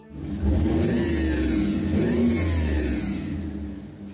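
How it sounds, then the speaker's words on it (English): A mini wrecker tow truck engine revs up loudly and holds, with a whining power steering pump rising and falling above the mid-pitched engine roar, close by and alone. "We also had some problems with the power steering pump whining when it revs up."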